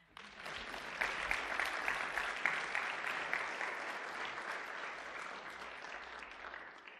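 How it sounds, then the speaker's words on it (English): A congregation at a Bible study breaks into applause, swelling quickly after a quiet start and holding as a dense, even wash of clapping for several seconds, somewhat distant in the room. "Give them a round of applause."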